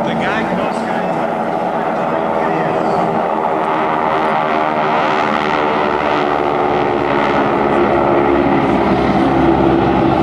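Steady droning roar of the GEICO Skytypers propeller aircraft engines overhead at the 2008 Jones Beach Airshow, loud and continuous, with a voice talking over it throughout.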